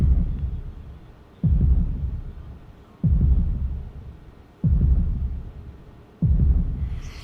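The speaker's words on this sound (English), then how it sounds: "Now we're hearing the heartbeat again." Deep, booming heartbeat thuds in The Legend of Dragoon game repeat slowly about every one and a half seconds, each one swelling and fading into a low rumbling drone.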